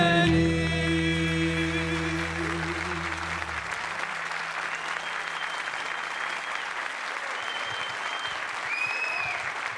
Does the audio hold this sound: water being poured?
no